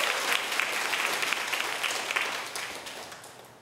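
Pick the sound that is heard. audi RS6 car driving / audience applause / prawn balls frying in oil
audience applause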